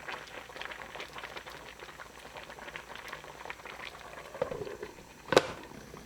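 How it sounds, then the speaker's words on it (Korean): Braised mackerel with scallion and pepper simmers in a pot with a low, soft bubbling and faint popping, quiet and close, ending in one sharp clink or tap. "파, 고추 넣고 2분 더 끓입니다."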